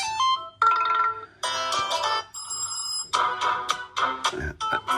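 A series of different electronic ringtones and notification chimes from an Emporia ME6 phone play one after another, bright melodic tones, each short, some with repeating beeps.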